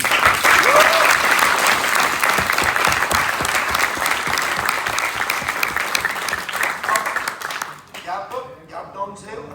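Loud crowd applause with dense clapping fills most of the stretch, then breaks off into scattered claps and a voice speaking near the end.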